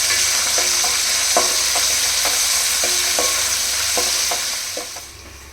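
A spoon stirs a pan of chicken fry biryani mixture with coriander and mint leaves, giving repeated scraping knocks over a steady sizzle, close and loud, fading slightly at the end.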